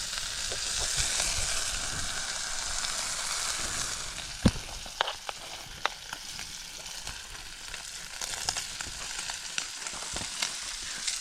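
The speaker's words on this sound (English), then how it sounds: "So we'll get a bit of colour on this bacon, then we'll put the onion in." Bacon sizzling in a pan on a Trangia camping stove at a wild camp on Wild Boar Fell, a constant hissing fry with scattered pops and crackles growing more frequent in the second half.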